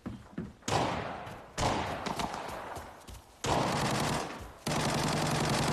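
Continuous automatic gunfire in the Arena Breakout video game, fired by real players close ahead, comes in sustained loud bursts separated by short gaps, with dense rapid shots and thumping low impacts.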